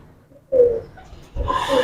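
Breeder pigeons coo in two close, soft bursts, each a low throaty call, with a short quiet gap between them.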